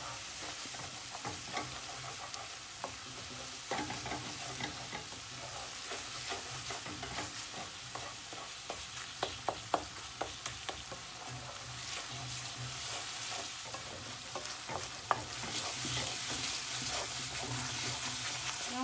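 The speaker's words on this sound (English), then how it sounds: "Fry till all the raw smell goes." Oil sizzles steadily in a pan while a spoon scrapes and stirs at an irregular rhythm, cooking the spice base for an aubergine bhaji at a home stove, fairly close and moderately quiet.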